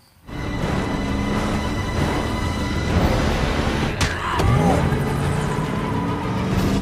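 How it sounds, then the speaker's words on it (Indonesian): A van drives through a zombie-overrun city in World War Z, its engine a steady close rumble with a brief revving surge and scraping jolts midway. "Gary bisa keluar dari kota menggunakan mobil van"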